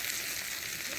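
Semi-frozen food frying in oil in a pan over a campfire, giving a steady, dense sizzle with close crackle that holds evenly throughout, with no talking.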